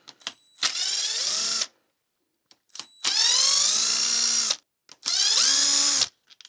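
A power driver spins out 2.5mm wing bolts on an E-Revo RC truck in three close, loud whirring bursts, each rising in pitch as it winds up, separated by brief pauses.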